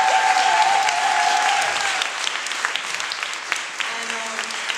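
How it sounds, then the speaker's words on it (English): Audience at a hip hop festival panel discussion applauds the panelists in a dense, steady wash of clapping, loudest at first and thinning slightly, with a brief whistle-like tone and scattered voices mixed in. "Let's give all the panelists another round of applause"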